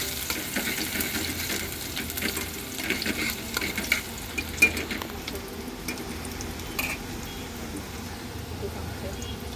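Onion frying in four spoons of oil for a Malvani chicken gravy, a steady close sizzle and hiss with occasional stirring scrapes, while a voice talks quietly in the background.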